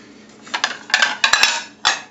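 A plate is picked up and handled in a home kitchen while making a tofu sandwich, giving several close, bright ceramic clinks and clatters in quick irregular bursts, with quiet between them.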